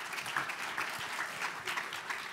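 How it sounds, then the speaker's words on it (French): Audience applause for two speakers at a corporate collaboration talk, a steady even patter of many hands clapping at moderate, slightly distant level with no talk over it. "Vous pouvez les applaudir."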